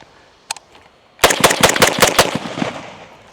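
A Zastava M92 rifle fires GROM ammunition from a 20-round magazine in a fast burst of sharp, loud shots close by, preceded by a single click, with the rapid reports trailing off after about a second.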